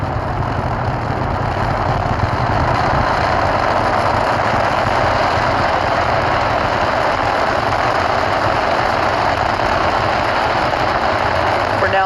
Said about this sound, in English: We're now 30 seconds into flight, and Falcon 9 is preparing to pass through max Q